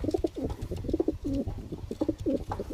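Large pigeons in a loft cooing in a steady series of soft, rolling low calls, close and fairly loud, several birds overlapping with no talk.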